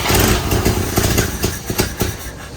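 An old Volvo B20 four-cylinder engine with a leaking head gasket, a loud continuous rough running and revving clatter close by, uneven pulses with no talk.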